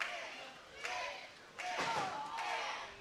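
A wrestler drives a knee into his opponent's back in a DCW wrestling match, with a couple of sharp thuds against the mat over a steady arena crowd murmur.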